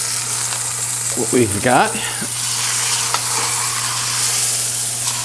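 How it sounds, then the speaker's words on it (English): A pork roast sizzles steadily as it browns in a hot pan, a constant loud frying hiss, while a person speaks briefly over it. "Okay, we have a little sizzle going"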